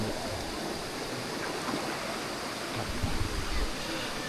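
A continuous rushing roar of Hin Tang waterfall in Nong Wua So, Thailand, steady and fairly loud, with no voices.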